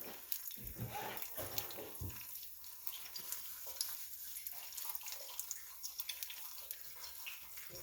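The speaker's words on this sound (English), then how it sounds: "We just want to crack the egg in the oil." An egg fries in hot oil for Korean bibimbap, a close, steady sizzle with scattered crackles and a few low thumps early on, no talking.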